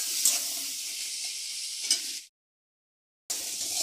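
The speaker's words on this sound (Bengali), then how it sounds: "এবারে কাঁকড়াগুলো ভালো করে ভেজে নেব।" Crabs fry in a pan with a little turmeric while being stirred, producing a loud close hiss with a couple of sharper scrape accents. The sound cuts to silence for about a second, then the sizzle resumes.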